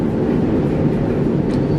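An international train travelling from Poland toward Ukraine rumbles steadily from inside the carriage, a dense low-frequency roar with faint rattles and no speech heard.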